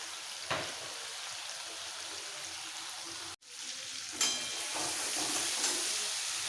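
Steady sizzling of boiled, broken potatoes frying in a kadai, with a few scraping stirs and a brief break midway; no voices.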